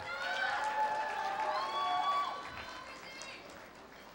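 Crowd applause and cheering at a 2019 high school graduation ceremony as a graduate is called up, a dense, steady wash of clapping with a few bright whistles or shouts, easing off toward the end.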